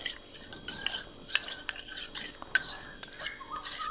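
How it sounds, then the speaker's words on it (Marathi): Multani mitti clay is whisked with water in a bowl for a homemade face pack, producing soft continuous wet stirring with a few light clinks of the utensil against the bowl, fairly quiet and close. "एकदम छानपैकी ह्याला फेटून घ्यायचंय, जेणेकरून ना मुलतानी माती ह्यात सगळी मिक्स होणार आहे."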